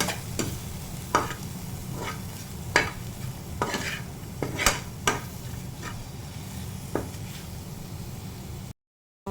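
Coriander powder being sautéed in a pan for a pappadam curry, with scattered scraping stir clicks over a low steady sizzle, close and moderately quiet, no talk.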